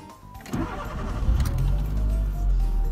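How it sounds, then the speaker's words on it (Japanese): A 12SR car engine cranks briefly and catches, then settles into a steady, loud low idle rumble, restarted after a throttle-body relearn and error-code reset. "そしたら改めてエンジンかけてみます。"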